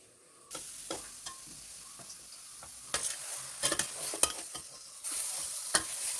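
Washed bones sizzle in hot oil with a spice paste for a Kottayam-style kappa biriyani, while a spoon or ladle scrapes and stirs them in several sharp, irregular strokes close by, with no voices.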